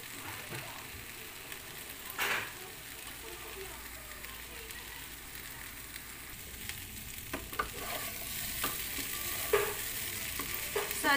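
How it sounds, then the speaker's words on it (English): Aloo gobi masala simmering uncovered in a pan gives a steady soft sizzle and bubbling, with a few brief clinks and scrapes of stirring near the end. "You just simmer and without the cover."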